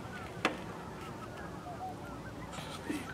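Birds, goose-like, sitting on a frozen lake's ice give a few distant honks and calls, one sharper call early and more near the end, over faint outdoor ambience.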